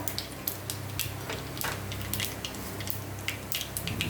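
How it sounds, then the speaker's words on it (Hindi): Steady crackling sizzle of mustard and cumin seeds popping in hot oil, with scattered sharp pops over a constant frying hiss, close up and no talking. "मैंने इसमें ऐड कर दी है राई और ज़ीरा"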